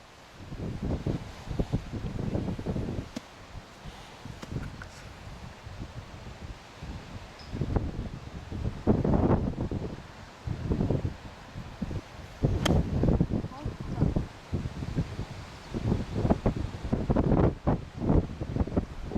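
Wind gusts buffet the microphone on a golf course, irregular rumbling bursts of varying strength that come and go, loud and close, with no voices.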